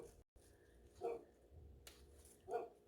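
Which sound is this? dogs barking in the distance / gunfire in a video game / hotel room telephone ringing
dogs barking in the distance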